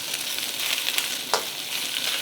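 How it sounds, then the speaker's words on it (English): Steady, close sizzling of chicken frying in hot oil in a pan, a constant crackling hiss with a few brief louder pops. "I'm going in with the chicken. And you hear that nice sizzle."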